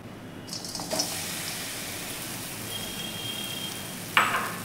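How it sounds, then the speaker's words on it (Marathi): Jaggery melts in a spoonful of ghee in a pan over medium heat, giving a steady soft sizzle throughout with a brief louder scrape near the end. "आणि आता आपण हा गूळ या तुपावरती छान असा आपण मेल्ट करून घेऊयात"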